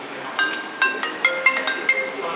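A mobile phone rings with a short repeating electronic chime melody, several bright beeping tones in quick succession, close and clear during a car trip on a toll road, with no talking.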